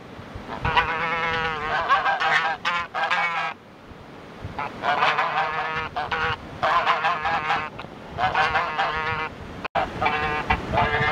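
Several geese honk repeatedly at close range in bursts with short pauses, loud and clear, met at a drinking stop along a rural walking path on the Camino de Santiago.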